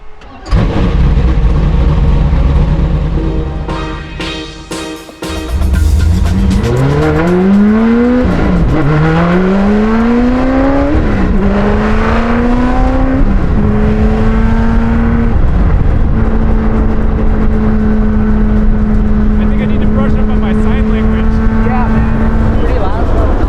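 An LS V8 engine in a custom Porsche revs up through the exhaust in repeated rising sweeps, loud and close, before holding a steady high drone; voices talk over the start.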